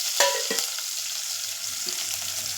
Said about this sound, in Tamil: கடுகு பொரிஞ்சிட்டு இப்போ இந்த ஸ்டேஜில் நம்ம கருவேப்பிலையும் வெங்காயம் போட்டுக்கலாம்